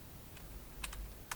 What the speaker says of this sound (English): just type something.